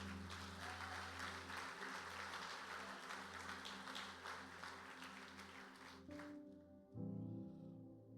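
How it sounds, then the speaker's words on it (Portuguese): A church congregation claps during a Portuguese-language sermon, a broad, continuous wash of applause with sustained keyboard or organ chords underneath, and the clapping drops away near the end as the music carries on alone. "Aplauda Jesus."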